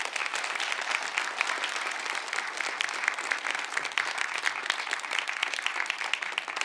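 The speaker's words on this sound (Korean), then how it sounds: "뜨거운 박수로 전달합니다" A church congregation gives warm applause at a Sunday service. The clapping is dense and sustained from many hands, fairly even and moderately loud throughout, with no talk over it.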